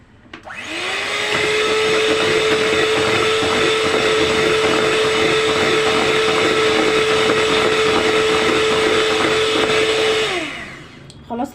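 An electric mixer whirs steadily on a bowl of cake batter with milk added, a continuous motor drone that starts abruptly, holds for about ten seconds and then winds down, loud and close with no talking.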